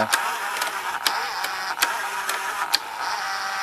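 A steady mechanical whirring and hum with a few sharp clicks and ticks from a Fisher FVH-907 VCR's tape transport running in forward search, close up and continuous.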